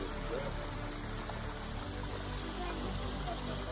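Water trickles steadily from a small waterfall at Waterfall Glen, a constant broad wash of outdoor noise with no distinct splashes.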